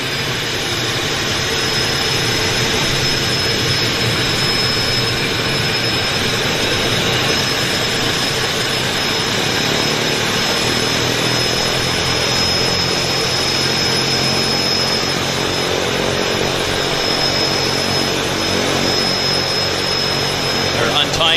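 A floatplane engine at the Vancouver Harbour floatbase roars loud and steady throughout as the throttles are adjusted, its droning tone shifting slightly over time.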